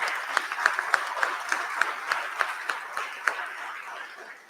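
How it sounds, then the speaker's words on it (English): Audience applause at a community candidate forum with a rhythmic pulse of claps, a room of people clapping together, fairly loud, tapering off toward the end. "And can we give our candidates a round of applause?"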